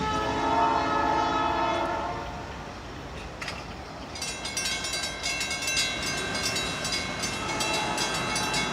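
FEC (Florida East Coast Railway) Family Day train passing southbound, its multi-tone horn blaring loudly for about two seconds, then a second long horn blast over steady rumble and wheel noise as the cars roll by nearby.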